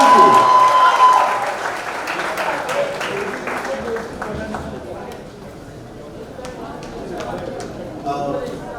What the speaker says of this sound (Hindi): एक बार हमारे सारे media friends के लिए जोरदार तालियां होनी चाहिए।